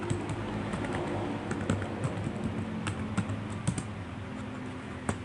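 Quiet, close typing on a computer keyboard, a run of soft, irregular key taps and occasional sharper clicks over a faint background hum.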